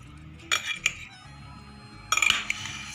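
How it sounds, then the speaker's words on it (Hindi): A metal utensil clinks against a bowl while chickpea and potato chaat is mixed, with two short bursts of scraping and clattering separated by a quiet pause. "अब इसको मिक्स करना शुरू करते हैं"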